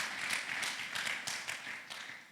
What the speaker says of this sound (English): If it's for the Lord, continue to put your hands together.